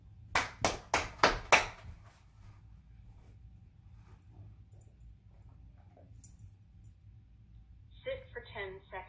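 About five quick, loud hand claps at the start of a dog training session on sit-stays, then quiet room tone with faint scattered sounds, and a voice speaking near the end.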